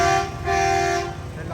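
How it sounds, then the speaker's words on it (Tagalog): Toyota Hilux horn blaring in two loud, steady tonal honks, the second longer, close by over background road noise. "Nalakas yung kanilang busina."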